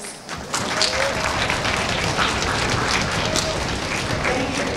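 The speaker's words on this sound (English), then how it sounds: "Students, please give your families a big round of applause." Audience at an All-County Orchestra concert applauding students' families: a full, sustained wash of clapping from a large crowd that swells in quickly and holds steady.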